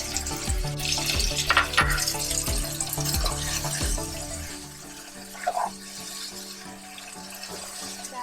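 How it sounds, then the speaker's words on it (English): Water pours into a pan of sizzling chicken with garam masala, sugar and mustard greens, starting as a splashing rush over frying and then settling to a quieter bubbling simmer with a few stirring clinks. "I'm going to add some water"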